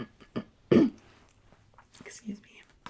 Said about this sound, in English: I've had a cough for 2 months.